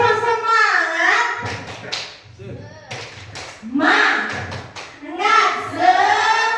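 Children in a classroom clap a rhythmic group clap pattern, loud and close, mixed with their own chanting voices throughout.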